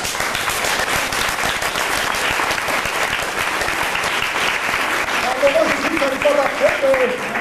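Sustained, energetic clapping from a large audience fills the whole stretch, with a few voices rising near the end.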